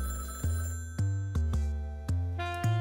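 A telephone rings in a video game, several evenly spaced electronic bell-like rings in quick succession, clear and close with no talk over them.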